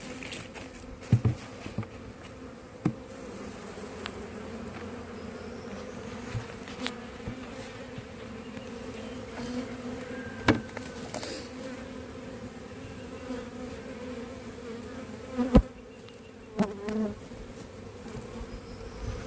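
Honeybee swarm being released from a bag into a new hive during a swarm capture, a steady droning buzz of many bees throughout with a few brief bumps and knocks, no talking.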